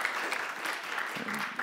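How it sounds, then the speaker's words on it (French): Audience applause at a French talk on biodiversity and housing, a steady wash of clapping that holds evenly from start to finish with no voices on top. "Mais on peut applaudir Olivia, merci."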